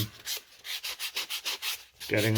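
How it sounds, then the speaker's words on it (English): Dowel supports on a cosplay prop being sanded by hand, about ten even back-and-forth rasping strokes in a steady rhythm, close and fairly loud, ending in a brief louder thump. "just sanding these off, cleaning them up"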